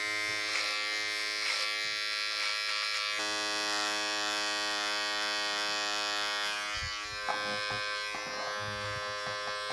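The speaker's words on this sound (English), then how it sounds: "Nice bit of clipper over comb just to get rid of that." Electric hair clippers buzz steadily while trimming neck hair clipper-over-comb, a close, constant motor whine with slight shifts in pitch and load as the blades pass through hair.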